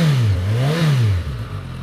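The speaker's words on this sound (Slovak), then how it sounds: "ukážem vám aspoň trošku, aký zvuk ide" A 2019 Suzuki Katana motorcycle with its stock exhaust revs briefly, the engine note rising and falling in one smooth throttle blip before settling back toward idle, close and fairly loud.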